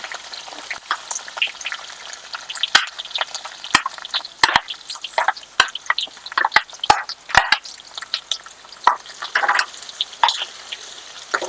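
Bitter gourd fries in a pan, giving a light bubbling sizzle scattered with sharp pops and crackles of spitting oil. Occasional stirring noises are heard and nobody talks.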